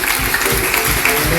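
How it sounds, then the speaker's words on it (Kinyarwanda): A brief, loud burst of applause from a church congregation at an interfaith gathering in Rubengera parish, many hands clapping continuously and close. "Amashyi menshi."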